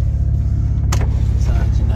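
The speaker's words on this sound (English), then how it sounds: "besides, you know, power windows" Power window motor on a convertible Cadillac whirring briefly as a window moves, heard over a steady low idling engine hum.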